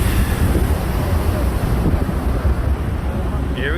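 A waterfall at an Alaska national park roars as a loud, steady wash of broadband noise, dense and heavy in the lows, with no break across the whole stretch.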